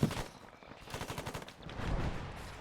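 A machine gun fires during Marine platoon live-fire training, with rapid automatic bursts of sharp cracks rattling close and loud for nearly three seconds.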